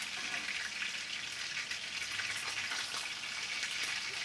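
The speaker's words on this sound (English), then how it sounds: "I'm just going to have a Ritz cracker with an egg on it that's been deep fried" A Ritz cracker topped with an egg deep-frying in hot oil, a steady, bright, crackling sizzle with fine popping bubbles, continuous and fairly soft, with no talk.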